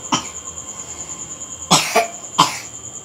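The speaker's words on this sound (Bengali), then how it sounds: "আসলে ঠান্ডা লেগেছে এখন, কাশিটা হচ্ছে" A child with a cold coughs nearby: one short cough, then after a pause a cluster of harsher coughs in quick succession, against a faint steady background hum.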